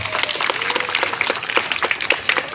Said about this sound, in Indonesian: Alhamdulillah, tepuk tangan.